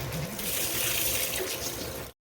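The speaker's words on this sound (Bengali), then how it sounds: "ভাজার জন্য দিয়ে দিচ্ছি কড়াই সরষের তেল।" Mustard oil is poured into a wok for frying, a continuous liquid splash that lasts about two seconds at moderate volume, then stops abruptly.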